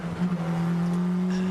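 Onboard engine of a McLaren MP4-12C GT race car during an FIA GT race at Nogaro, France: a loud, steady high-pitched drone holding a rising pitch through the final corners, with a brief scrabble early on and no talk.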